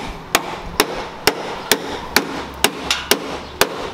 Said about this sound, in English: we're gonna have to fix this thing with the hammer